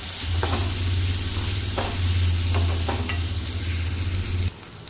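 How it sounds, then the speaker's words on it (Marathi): Finely chopped onion fries and is stirred in a pan for a potato bharit, a loud continuous sizzle over a low hum with several stirring scrapes, dropping away abruptly near the end. "थोडंसं व्यवस्थित मिक्स करून घ्यायचा आणि थोडा ब्राऊन पण करून घ्यायचा."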